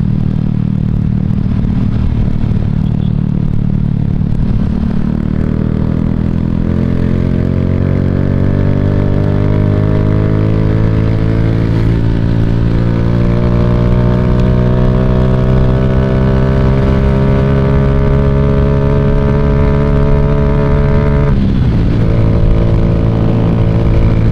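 A Yamaha Raider J115 Fi motorcycle fitted with a 10-hole injector revs up through the gears while being ridden and overtaking, its engine note climbing steadily and loudly over about twenty seconds before a brief dip at the shift.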